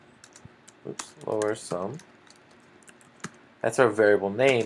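Keyboard typing while entering a variable name in GeoGebra software: sparse, light key clicks scattered through the stretch, close and fairly quiet, with someone speaking between and over them.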